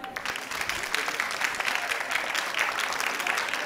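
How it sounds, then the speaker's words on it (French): An audience applauds winning primary schools at a school cleanliness awards ceremony in Guinea, with a continuous wash of many clapping hands at moderate volume and faint crowd murmur. "On les applaudit."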